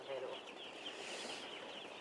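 Faint clucking from a pen of chickens kept warm by a heater, soft and distant under a steady background hiss, lasting only a moment.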